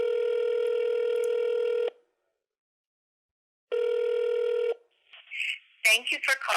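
A telephone rings twice with long electronic tones separated by a pause, then a voice begins speaking.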